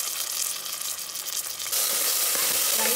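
Ginger garlic paste fries in hot oil for an egg biryani, giving a loud, close, continuous sizzle that swells into a stronger hiss partway through.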